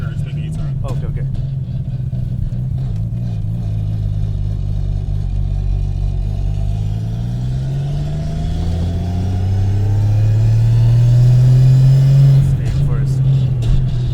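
A straight-piped 750 hp Nissan R32 Skyline GT-R with a sequential straight-cut gearbox accelerates from inside the cabin, its engine note rising steadily and rumbling louder toward the end while people talk over it.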